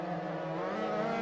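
Formula 2 race cars on a racing game track at Autodromo Hermanos Rodriguez, a steady, even engine drone holding one sustained tone throughout a short stretch.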